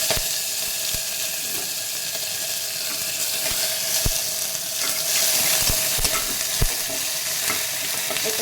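Ginger, cumin, bay leaves, chillies and whole garam masala frying in oil, a steady close sizzle with occasional sharp spoon knocks against the pan as the spices are stirred; no voices.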